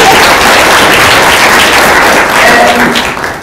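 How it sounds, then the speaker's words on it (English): A conference panel audience at PISCeS 2023 applauds, with dense, steady clapping that fills the room for the whole stretch and fades slightly toward the end. No one speaks over it. "I think we should give a round of applause"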